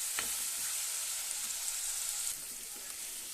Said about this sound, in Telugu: ఆయిల్లో ఇలా వేసుకొని బాగా వేగేదాకా కదిపించుకుంటూ ఉందాం